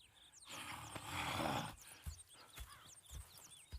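Horses at a camp in the video game Red Dead Redemption II: a long snorting breath or whinny, then scattered hoof thuds and shuffling, with birdsong chirping in the background.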